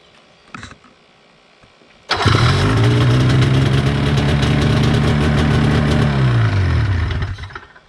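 A 500cc snowmobile engine in an FL350 buggy cranks and fires after a brief click, then runs as a loud, steady close-up idle for several seconds before winding down.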